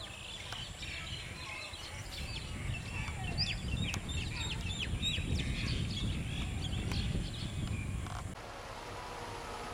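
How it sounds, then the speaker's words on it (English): Many birds call and chirp at once in a lively outdoor chorus at a Buddhist site in Myanmar, a steady layered twittering over low background noise that fades near the end. "Oh, birds."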